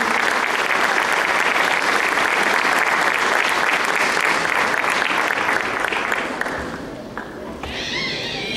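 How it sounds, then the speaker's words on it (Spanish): A ballet performance audience breaks into sustained, dense clapping that holds steady for several seconds, then tapers off near the end. "Le vamos a dar un aplauso"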